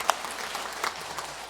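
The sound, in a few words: congregation applauding the choir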